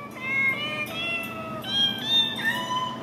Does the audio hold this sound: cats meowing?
yes